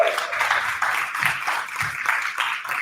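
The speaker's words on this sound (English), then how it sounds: "Give yourselves a round of applause" Audience applause at a business conference, a steady wash of many hands clapping that sounds moderately distant and even throughout, with no voices on top.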